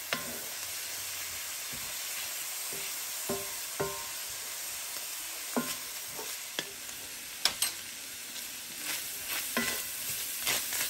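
Low-fat ground meat frying in a pan, a steady hissing sizzle with scattered clicks and scrapes of a spatula stirring, close and continuous, no voices.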